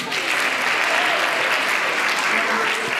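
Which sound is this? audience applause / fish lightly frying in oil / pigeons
audience applause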